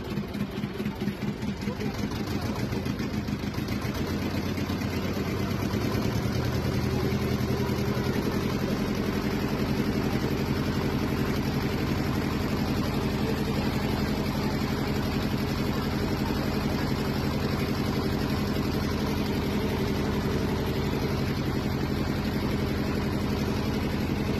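A boat engine crossing the Ganges: a steady, loud, close mechanical drone with a constant throb that fills the whole stretch, with faint voices underneath.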